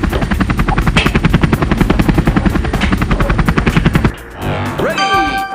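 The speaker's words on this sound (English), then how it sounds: "Helicopter." A loud, steady helicopter rotor thumps in rapid rhythmic chops, then cuts off abruptly, followed by a brief ringing electronic tone.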